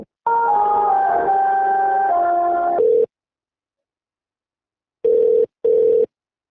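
A phone call to the BMC office rings before it is answered, with a melodic tone sequence for about three seconds, a pause, then two short ringback pulses, clean and close.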